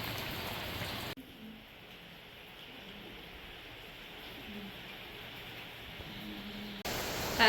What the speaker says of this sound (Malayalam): ഇന്ന് നല്ല തകർത്ത് പെയ്യുന്ന മഴയാണ് കേട്ടാ